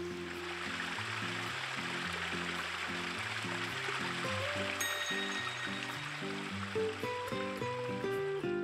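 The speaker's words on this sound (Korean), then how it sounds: "물소리가 좋네. 물소리도 딱 좋고." Steady water flow of a clear mountain stream runs faintly in the background beneath prominent music-like tones throughout.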